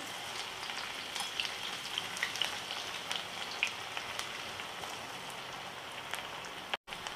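Okra (bhindi) pieces frying in hot oil give a soft, continuous crackling sizzle with scattered pops, steady and fairly quiet, without talk.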